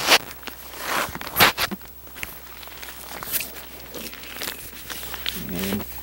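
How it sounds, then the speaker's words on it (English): A roll of SolaWrap plastic sheeting being handled and lined up on a greenhouse frame, giving close crinkling, rustling and scuffing handling noises in irregular bursts, with no speech. "bring in my roll of plastic, get it aligned up just right"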